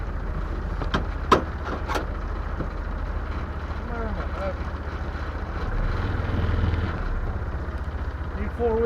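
A four-wheel-drive truck pulls away on a snowy day, its engine a low steady rumble rising slightly as it gets moving, with a few sharp clicks and knocks early on and people talking over it.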